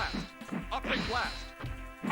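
Cyclops fires an optic blast during a round of a PS1 X-Men fighting game, a brief energy attack mixed with sharp whacking impacts and game voices over a steady low hum.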